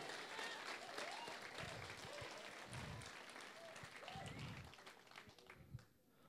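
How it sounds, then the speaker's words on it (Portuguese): A church congregation claps steadily and warmly for several seconds, the applause continuous and mid-distance, with some voices rising through it. "Dê um aplauso a Jesus por isso."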